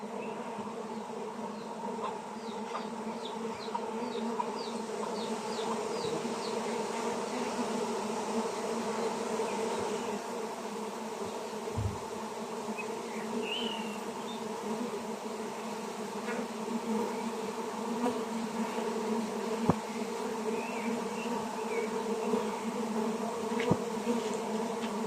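Honeybees buzz around a hive box that has only a small population left, a continuous steady drone close by with individual bees flying past now and then.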